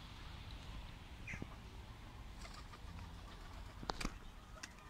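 Faint cooing and clucking from pigeons, one of them legless, comes through a steady outdoor background hiss, with a few scattered short bird calls and light knocks.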